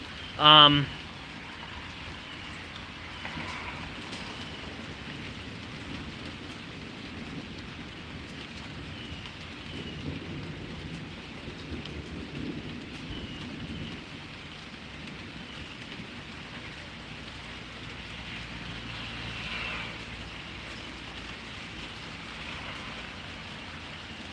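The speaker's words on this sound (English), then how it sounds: "the rain is definitely hitting those plants" Thunderstorm rain falls on plants in Pittsburg, Kansas, as a steady, close hiss of drops on leaves, with a sharp loud burst at the start and gentle swells afterward.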